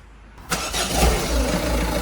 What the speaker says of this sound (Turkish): Beyler aracımızın ilk marşına basıyoruz.